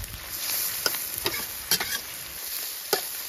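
Pork stir-fries with garlic and pickled chili in a hot wok, a steady sizzle broken by several sharp scraping clacks of a spatula stirring the pan.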